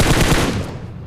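Rapid automatic gunfire rattles loudly in a battle royale video game, a dense burst of shots that tails off into fading echo within a second.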